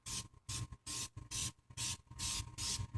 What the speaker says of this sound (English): Now notice, guys, how I do quick sprays.